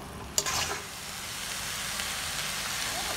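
Beef noodles stir-frying in a pan, a dense continuous sizzle with a sharp clatter of utensils near the start, then steady frying noise close by without speech.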